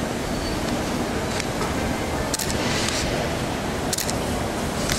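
Kintetsu 9020 series train, set EE36, standing at Amagasaki station as a rapid express bound for Nara, heard as a steady broad rumble and hum with a few faint clicks.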